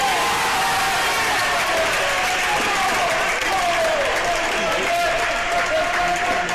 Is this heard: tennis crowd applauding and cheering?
yes